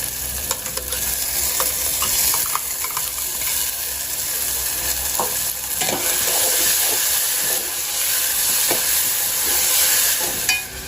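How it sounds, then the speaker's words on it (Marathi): Ginger, garlic and coriander paste sautés in hot oil over cooked onion and tomato, a steady close sizzle broken by repeated scraping stirs of a spoon against the pan, with no talking. "पेस्ट आपल्याला या तेलामध्ये परतून घ्यायची आहे"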